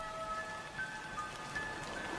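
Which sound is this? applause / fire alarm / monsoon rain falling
monsoon rain falling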